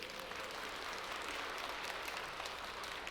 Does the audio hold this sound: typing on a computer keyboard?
no